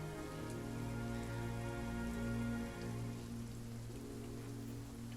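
Rain falls on the ground outdoors at night in a wooded setting, a dense, even hiss that runs without pause beneath a low sustained tonal hum.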